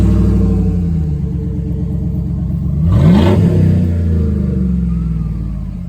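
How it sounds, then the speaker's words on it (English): Car engine with the muffler cut off, rumbling loudly at idle, then blipped into one raw, throaty rev that swells and falls back, close by with no talking. "this is what it sounds like now, with the muffler cut off."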